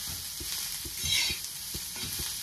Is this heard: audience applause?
no